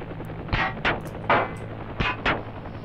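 Helicopter miniguns fire in the video game Heliborne, five short, sharp bursts spaced unevenly over a low engine hum.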